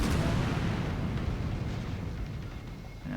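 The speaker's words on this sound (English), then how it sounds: "I shot all of our remaining torpedoes here." Torpedo explosions in the space combat game X3: Terran Conflict, a dense low rumbling roar that begins loud, slowly fades, and ends in a short dip followed by a final thump, with no talk over it.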